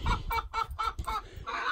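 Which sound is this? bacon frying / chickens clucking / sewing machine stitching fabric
chickens clucking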